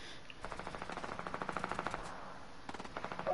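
Rapid gunshots in a video game, a quick rattling burst of automatic fire at moderate loudness, with no voices.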